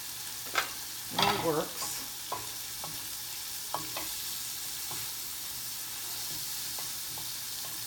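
Bacon crackles and sizzles in a frying pan, punctuated by a few sharp scraping stirs and pops, with a quiet steady hiss underneath and a brief spoken remark at the start.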